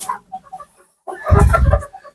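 Andijan black hens and roosters cluck in a farmyard, a few soft scattered clucks first, then a louder burst of overlapping calls near the end.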